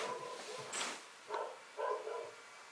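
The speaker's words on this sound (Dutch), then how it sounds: "Ik hoor hem weer blaffen." A dog barks a few times from somewhere inside a house, its short yaps coming at a moderate distance over a quiet room background.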